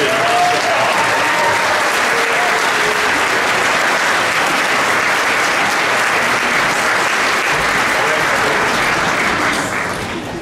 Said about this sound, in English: Let's give this sixth grade group another round of applause.